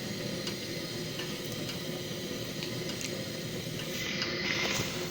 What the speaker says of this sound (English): we have to fry the chicken in like half kg of oil, because we have to deep fry it